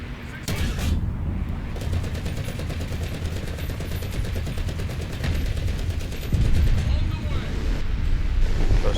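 Rapid .50 caliber machine gun fire in War Thunder, with an M24 tank and P-51A fighter in play, rattles steadily through the whole stretch amid engine rumble and wind noise, with a louder burst near the end.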